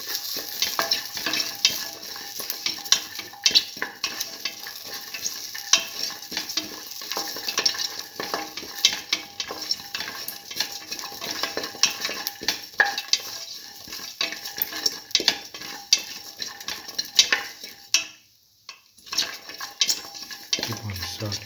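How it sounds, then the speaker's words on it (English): A tomato and split pigeon pea mixture with garlic sizzles in a pan while a spoon stirs and scrapes repeatedly, close up and fairly quiet, with no talking. "Thoroughly saute and mix."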